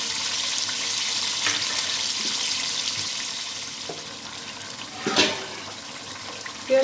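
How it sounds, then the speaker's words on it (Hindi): Home-made cream and a little milk pour into a pan of cooking chicken white korma, a steady liquid splash and sizzle with a brief louder gurgle near the end, no voices. "अब मैं इसमें जो है घर की बनी हुई क्रीम है, साथ में थोड़ा सा दूध है, ये मैं डाल दूँगी।"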